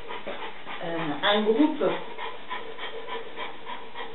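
A female dog pants softly during a shiatsu massage, the quick breaths sitting low beneath a steady stream of close French speech.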